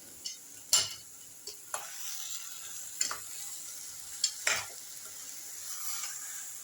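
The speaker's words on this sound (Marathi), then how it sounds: "खालपासून सगळं कालवून घ्यायचं व्यवस्थित साखर खाली चिटकणार नाही" Steamed raw mango and sugar are stirred in a pan with a spoon, giving a faint background sizzle and several scraping clinks against the pan at irregular intervals, with no voices.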